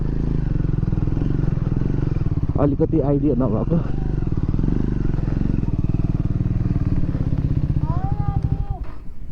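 A motorcycle ridden along rough roads in Ruby Valley, its engine a loud continuous drone throughout with clattering bumps, while people talk over it and a brief horn-like tone sounds near the end.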